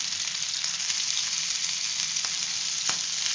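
Mutton and garlic fry in a pan for a mutton roast, giving a steady, close, loud sizzle throughout, with a couple of faint stirring clicks and no talk.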